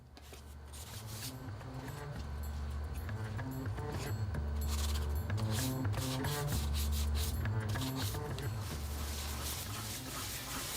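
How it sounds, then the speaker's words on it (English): Continuous rhythmic rasping of sandpaper rubbing back and forth over dried wood putty filler, close and steady, with a low mechanical hum underneath. "Once again, we find ourselves sanding in the dark"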